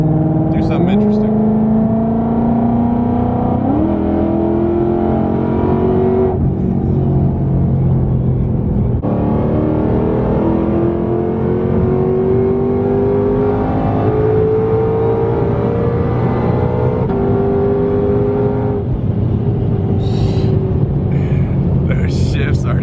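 Camaro ZL1 and Mustang GT500 accelerating hard in a street race, engines climbing in pitch and dropping sharply at each gear shift, a loud continuous roar heard from inside the car.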